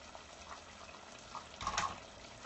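A brief splash and trickle of water being poured into a measuring cup, quiet against faint background hiss, with a louder gush near the end.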